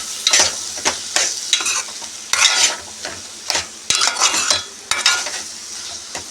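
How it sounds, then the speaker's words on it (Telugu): A spoon stirs jackfruit seed curry in a sizzling pan with repeated scraping strokes in an uneven rhythm, each stroke bringing a burst of frying hiss, close and fairly loud. "ఇదంతా బాగా కలిసేలాగా కలుపుకోవాలి."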